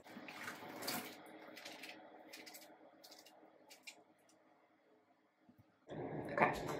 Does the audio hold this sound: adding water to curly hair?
yes